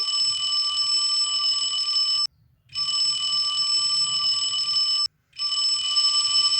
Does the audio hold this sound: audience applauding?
no